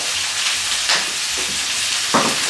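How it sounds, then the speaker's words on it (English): Loud, steady sizzling of sesame tuna searing in a hot pan, a constant crackling hiss with a couple of brief louder flare-ups. "you hear that sizzle"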